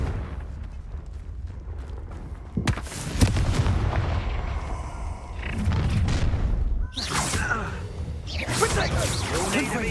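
Explosive booms and whooshing blasts from a Confringo blasting curse in the Hogwarts Legacy video game, several loud bursts across the stretch with a voice talking over the game sounds.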